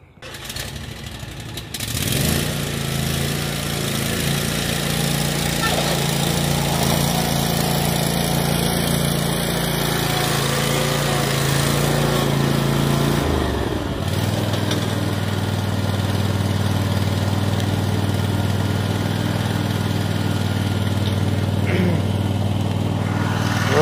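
A lawn mower engine starts up and settles into a steady, loud idle while warming up, a continuous close drone that shifts to a deeper, fuller running note partway through and keeps going to the end.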